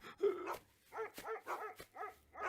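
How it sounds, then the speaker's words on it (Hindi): A dog gives a string of sharp barks and yelps at a steady pace, fairly close, with short pauses between them. "काफी देर से स्कॉट डॉग वहां भौंक रहे हैं"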